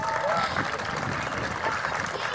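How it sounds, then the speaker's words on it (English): A crowd at a city hall grand opening in Stonecrest, Georgia applauds the city council, a dense, continuous wash of clapping that stays loud and even throughout. "Let's give them a round of applause."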